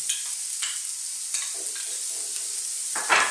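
Marinated chicken pieces sizzle steadily in a hot, lightly oiled pan for an Indian-style wrap, with a few soft scraping stirs and a louder turning clatter near the end, and no one talking.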